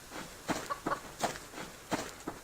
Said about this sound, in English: And another chicken.